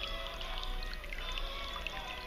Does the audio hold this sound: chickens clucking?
no